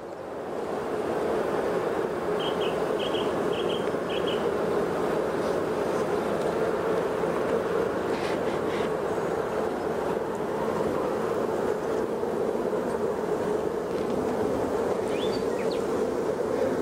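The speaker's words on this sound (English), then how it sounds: "I'm hoping that that's not the sound of a queenless hive." Honey bees buzz inside a beehive that may be queenless, a loud, dense, continuous drone heard up close, with faint short chirps and small knocks scattered over it.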